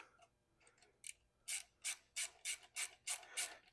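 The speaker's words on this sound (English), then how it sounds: "that sound you're hearing is the ratchet on the other side" Ratchet wrench clicking while a bracket is tightened during electric bike assembly, a run of sharp, evenly spaced clicks close by, growing louder and regular after a few faint scrapes, with no talking.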